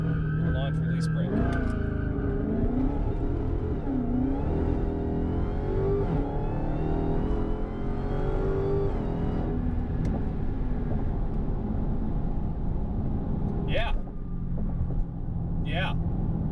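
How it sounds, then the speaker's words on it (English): A Dodge Charger SRT Hellcat launches at full throttle in launch mode, its engine roaring loudly and climbing in pitch through the run, with voices talking over the sound. "To launch, press brake and quickly apply full throttle."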